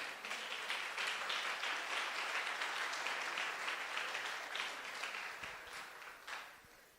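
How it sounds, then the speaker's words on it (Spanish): A church congregation claps during a Spanish-language sermon, fairly faint and distant, a steady patter of many hands that gradually thins and tapers off after several seconds. "Un aplauso al Señor, hombre, a María."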